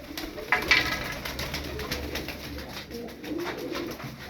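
Tumbler pigeons coo softly at a moderate distance, with low repeated calls and some light rustling and clicks around them, and no voices.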